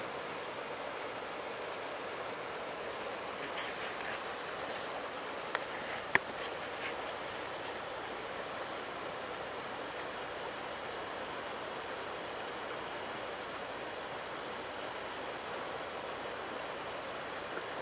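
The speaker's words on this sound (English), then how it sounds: "I'll leave you to the melody of the river." A river flows steadily outdoors near a cabin, giving an even, broadband rushing wash that runs unbroken throughout with no talk, and a couple of faint clicks sit just above it.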